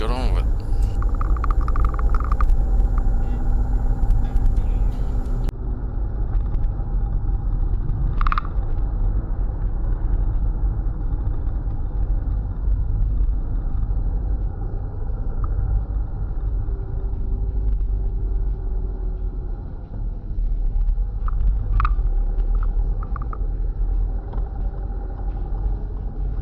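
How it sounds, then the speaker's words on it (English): A car driving along the road from Mildura to Red Cliffs, steady low engine and road rumble heard from inside, with occasional brief clicks. "So today we're just on a drive from Mildura to Redcliffe."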